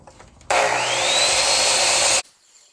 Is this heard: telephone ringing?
no